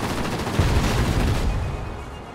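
Ki-43-Ic fighter guns fire in World of Warplanes as a dense, loud stream of rapid shots over engine roar, thinning out toward the end.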